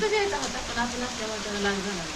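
Steady rain falls close by as a dense, even hiss, with people talking over it throughout.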